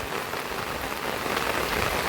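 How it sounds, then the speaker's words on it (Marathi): Heavy monsoon rain falls outside a home, a dense, even hiss of drops on surfaces that holds steady and loud for the whole stretch with no voices. "पाऊस बघू शकता खूप आहे"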